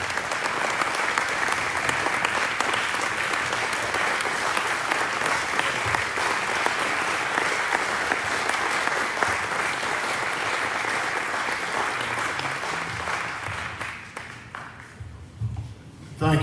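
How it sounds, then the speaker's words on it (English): A room full of people at a club's annual meeting gives a long, sustained round of applause to honour a member, steady and loud for about fourteen seconds before dying away as a voice begins. "Please, a round of applause and recognition for Mr."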